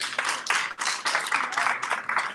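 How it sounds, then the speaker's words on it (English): A round of applause at a school luncheon, dense close clapping that surges and dips in waves over a couple of seconds, with no talk. "I feel like my round of applause is dying down."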